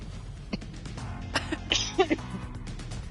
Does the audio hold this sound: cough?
yes